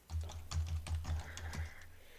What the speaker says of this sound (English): Come on, I can't type today.